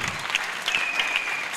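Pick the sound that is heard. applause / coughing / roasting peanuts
applause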